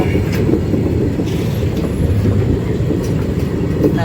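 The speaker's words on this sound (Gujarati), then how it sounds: "જાય હ, સનસનાટ કરતી જાય હ. છેલ્લો ડબ્બો આવી ગયો" A train rumbles past close by, a loud continuous roar of wheels and carriages with faint rhythmic clacking over the tracks.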